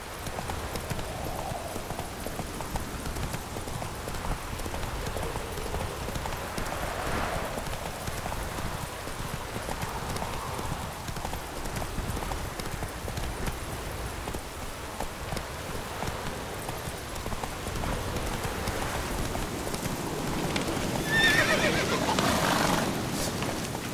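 Horse hooves clip-clop steadily at a gallop in The Witcher 3, with a neigh and ambient game rain and wind throughout, loud and continuous.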